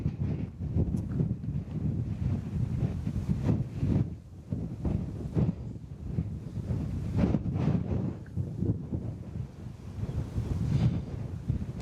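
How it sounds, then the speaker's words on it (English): Strong coastal storm wind on the Norwegian coast buffets the microphone in loud, rumbling gusts for the whole stretch, with surf faintly beneath and no voices. "The wind is so strong that I actually doubt that this audio will be usable at all"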